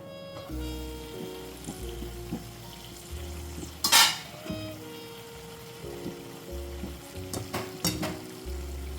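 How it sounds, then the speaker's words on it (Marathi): Green-masala bean vegetable cooking on a low flame, a soft steady sizzle with occasional spoon stirs and scrapes against the pan, one louder clatter midway, no voices. "आता ही भाजी आपण सात ते आठ मिनटं मंद आचेवर शिजवून घेऊया"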